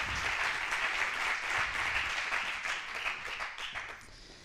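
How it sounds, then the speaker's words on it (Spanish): An audience at a closing conference session applauds, a steady crowd of clapping that carries on moderately loud and then gradually thins and fades toward the end, with no one speaking. "por favor, un aplauso para mi colega"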